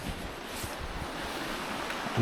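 A river rushes right beside a Ukrainian sauna in the Carpathian mountains, giving a steady, close outdoor wash of flowing water with some wind buffeting and no voices.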